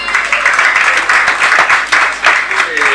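An audience at a 1984 inter-sports club evening at the Tempo-Club in Alençon gives dense, sustained applause, loud and close, with a few voices mixed into the clapping.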